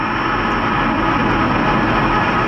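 An F-16 Fighting Falcon fighter jet of the Indonesian Air Force roars steadily and loudly throughout, a dense continuous engine rumble with no talking.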